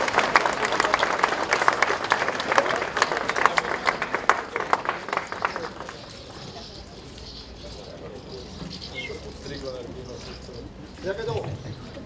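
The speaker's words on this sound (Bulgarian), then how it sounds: "Моля за вашите аплодисменти." An audience at the opening of a new oncology hospital in Panagyurishte bursts into loud, dense clapping for about five seconds. The clapping then thins out into murmuring voices and scattered room sounds.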